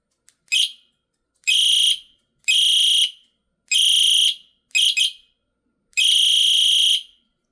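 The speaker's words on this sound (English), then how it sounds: "It's got an alarm." Personal alarm built into a flat EDC flashlight (SMINGX1 YC8001), rated at 120 dB, shrieking in six piercing high-pitched bursts of about half a second to a second each, separated by short silences, very close and loud.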